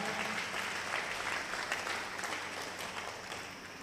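A congregation at a Telugu Christian sermon claps loudly and continuously, a dense, steady wash of applause with no pauses and no voices standing out.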